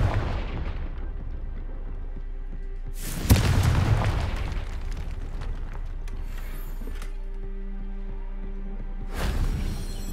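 Confringo fire spell explosions in Hogwarts Legacy: two heavy booming blasts, the first a few seconds in with a rumbling tail, the second near the end, with quiet game ambience between.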